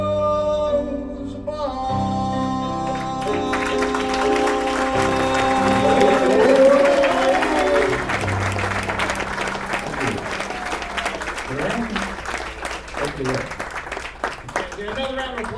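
Audience applause at a charity variety show, broad and sustained for the whole stretch, swelling in the middle and tapering toward the end, with music and voices mixed underneath.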